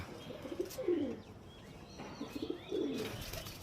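Quiet, close pigeon coos come in two throaty rolling phrases separated by a pause, with faint chirps in the background and no one speaking.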